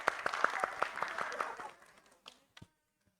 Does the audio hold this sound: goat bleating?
no